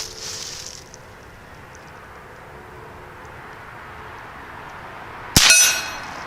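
A Henry rifle fires a round that misfired before, one sharp loud crack near the end after a long stretch of quiet outdoor ambience, followed by a brief ringing decay.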